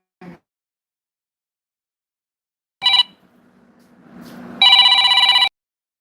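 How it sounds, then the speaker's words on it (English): Telephone ringing in a small workspace where liquid fungi cultures are mixed, one short chirp then two louder electronic ring bursts, close and clear over near silence with a faint hum. "Phone calls coming in."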